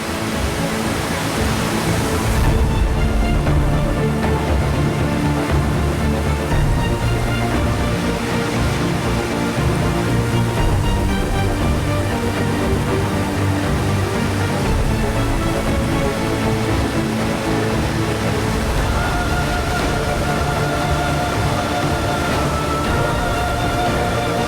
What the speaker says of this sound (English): As the Yellow River surges ahead, Hukou waterfall changes from second to second.